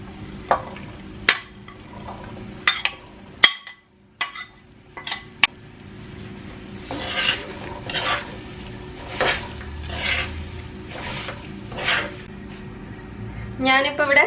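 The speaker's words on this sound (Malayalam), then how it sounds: "ഇതിപ്പോ ഇങ്ങനെ ഇളക്കുമ്പോ കണ്ട ഒരു കിലികില് സൗണ്ട് കേൾക്കും" Fish and fried spice powders stirred in a pan for Kerala fish pickle, with sharp metal spoon clinks and scrapes against the pan, then a run of soft rhythmic stirring strokes and faint sizzling.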